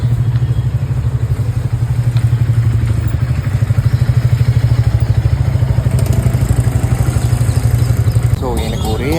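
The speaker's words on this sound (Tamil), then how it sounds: "ஸோ அதுக்கப்புறம் பைக் வந்து வெளியே எடுத்துகிட்டு வந்தோம்." A Triumph T4 motorcycle idles after being brought out, a loud close rhythmic chugging with steady pulses and some clatter, running throughout and catching a short burst of revving near the end.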